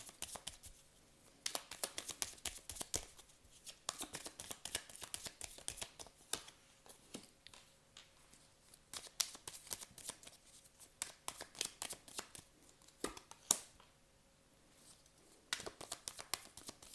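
Tarot cards being shuffled by hand during a reading, a steady run of crisp riffling and flicking bursts that continues for the whole stretch, close and fairly quiet with no talking.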